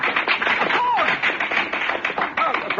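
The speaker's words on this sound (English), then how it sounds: "Applaud, all of you! Applaud!" Applause from a group in a radio drama, a dense, steady patter of clapping lasting throughout, with voices calling out over it.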